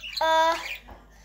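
Pet birds at home make a short, bright, harsh call lasting a fraction of a second, loud and close, followed by a brief soft rustle with no talking.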